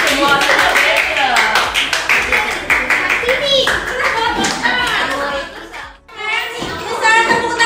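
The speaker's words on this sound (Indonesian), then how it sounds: "Tepuk tangan." A classroom of children clapping hands together, loud and close, a burst of rapid overlapping claps with voices of kids and a teacher speaking over and between them, a brief lull before clapping resumes.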